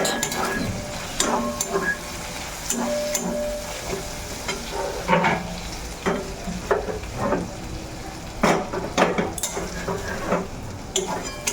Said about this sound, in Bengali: এই দিয়েই মাছের তেলটা সুন্দর করে ভাজবো